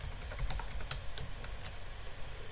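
Password being entered on a computer keyboard: quick, light key clicks in an uneven rhythm, close and fairly quiet, with no speech.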